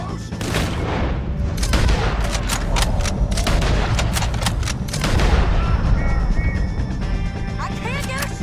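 Rapid gunfire in Red Dead Redemption 2 fills a busy firefight: many loud, sharp shots in quick irregular bursts, with booms and crashes mixed in and shouted voices over the din, thinning out toward the end.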